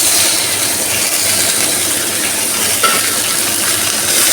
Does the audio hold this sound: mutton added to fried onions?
yes